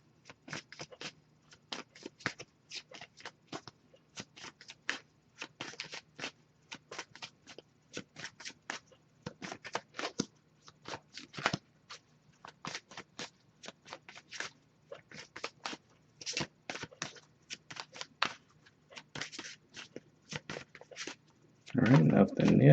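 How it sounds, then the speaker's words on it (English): A deck of tarot cards is shuffled by hand over and over, brisk riffling bursts with short pauses between them, close and crisp in a quiet room, with a louder rustle at the end. "I'll give it a few more shuffles before I move on"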